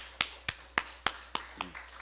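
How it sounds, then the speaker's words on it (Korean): Handclaps in a church, six sharp evenly spaced claps about a quarter second apart, fairly faint and close, with no voices. "하나님께 영광의 박수 올리겠습니다"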